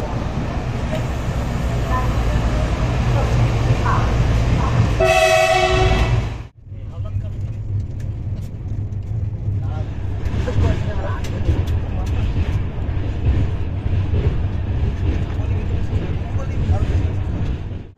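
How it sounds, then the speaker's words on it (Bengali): An Azad Hind Express train from Howrah to Pune pulls out of Bhandara Road station, heard from inside an AC three-tier coach: a steady low rumble of the train, a brief loud horn, then continued rolling noise with a voice speaking over it. "আমাদের ট্রেন এখন ছেড়ে যাচ্ছে ভান্ডারা রোড স্টেশন।"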